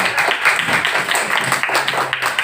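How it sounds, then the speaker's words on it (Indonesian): Classroom applause for a student group during a lesson, a short burst of clapping from a group of students with a faint hum underneath. "Tepuk tangan untuk kelompok 2."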